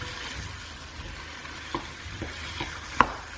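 Spices for chicken bhuna masala cooking in a pan, a soft continuous sizzle with a few light scrapes and taps of a utensil, one sharper clink near the end, no voices.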